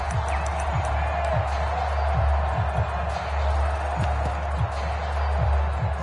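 Stadium crowd in an American football video game, a steady roar and cheer that fills the background throughout at an even level, with low thumping underneath.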